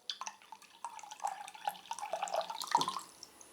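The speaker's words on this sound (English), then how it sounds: "I'm going to drain just a little bit more water out." Water drains out of a small tank in a light, trickling, dripping flow with scattered droplet splashes, fairly quiet and close, with no talking.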